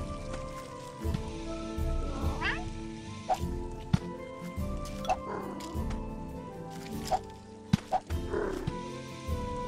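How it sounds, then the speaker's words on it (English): A cat meows several times, fairly faint, over a busy background of clatter and outdoor noise. "I hear a cat. I hear a kitty kitty."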